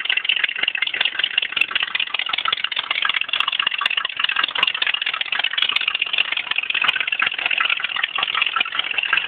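A Rotomon rat rod engine fitted with 12-inch Harley exhaust baffles idles steadily, giving a close, constant raspy rumble with a fine rattling texture throughout and no voices.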